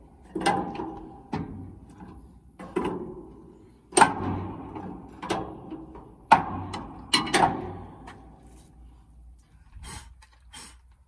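Big wrench working a bolt loose on a semi trailer, a series of separate sharp metallic clanks and ratchet knocks spaced a second or so apart, close and moderately loud.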